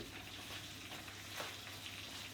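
A napa cabbage pancake fries in oil in a pan, giving a soft, steady sizzle with a few faint crackles, heard close and quiet with no talk.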